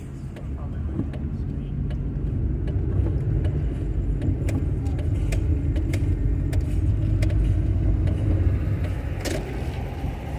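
Car rolling slowly through city streets with a low steady engine rumble from inside the cabin, light rattles and clicks on top, and someone talking over it.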